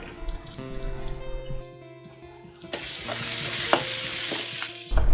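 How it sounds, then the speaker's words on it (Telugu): Ginger garlic paste and curry leaves fry in a pan, starting with light stirring and faint tonal hum, then a steady loud sizzle takes over with scraping stirs and no talking. "ఈ అల్లం వెల్లుల్లి పేస్టు పచ్చివాసన పోయేదాకా వేగనివ్వాలన్నమాట"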